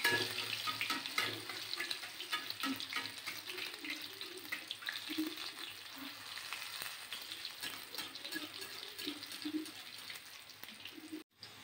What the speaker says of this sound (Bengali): একদিকটা আমার ভাজা হয়ে গেছে, আমি উল্টে দিচ্ছি।